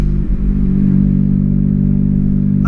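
A 1-litre car with a broken exhaust gives a loud, close, low droning engine rumble that holds steady and heavy throughout, with a brief clattery flutter near the start.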